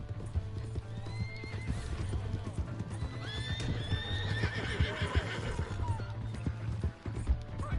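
Horse hooves clip-clopping and a horse whinnying in the Red Dead Redemption 2 video game, quick running hoofbeats with a couple of neighs over a low steady rumble, moderately loud with faint background sounds.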